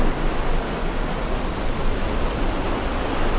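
Water rushes from the discharge of a Francis hydroelectric turbine in a steady, loud, broadband roar that holds evenly throughout, with no voices.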